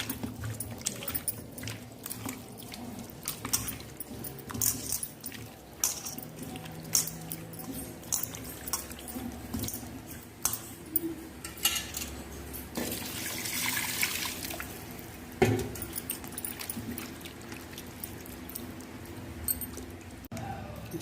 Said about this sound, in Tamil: மஞ்சத்தூள் போட்டு பிசைஞ்சு கழுவணும்.